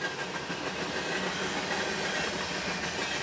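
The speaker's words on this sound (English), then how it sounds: "This is the last of extra 404." A CN freight train rolls by close at hand, a constant loud rushing rumble with hissing and rattling wheel noise that never lets up.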